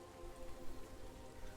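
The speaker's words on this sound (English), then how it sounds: "the rain comes back in again" Steady rain falls in a soft, even wash, faint and continuous throughout with no voices.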